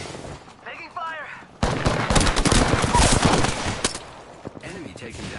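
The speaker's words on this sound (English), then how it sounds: "Taking fire!" Automatic gunfire bursts in the battle royale shooter Apex Legends, loud and dense for a few seconds after a short quieter stretch, with clattering shots tapering off near the end over game ambience.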